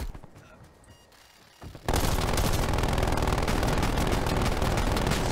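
Sustained rapid gunfire against a turret in Call of Duty Black Ops Cold War multiplayer, bursting in suddenly after a quiet stretch and continuing loud and dense to the end.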